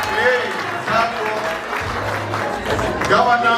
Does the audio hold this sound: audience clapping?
yes